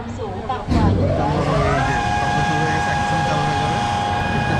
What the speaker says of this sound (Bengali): আমাদের এই রাইড সম্ভবত চালু হইতে যাচ্ছে।